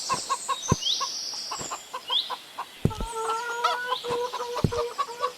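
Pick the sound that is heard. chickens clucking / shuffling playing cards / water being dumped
chickens clucking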